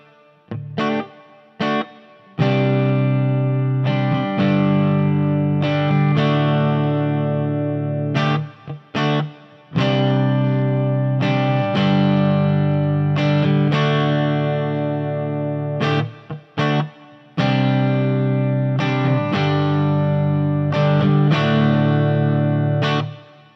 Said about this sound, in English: So it has a very natural tail to it